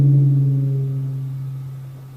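A rubber bouncy ball on the end of a small stick drawn across a drum skin for a theatre production, giving a low, sustained groaning tone that slowly fades over about two seconds, heard alone.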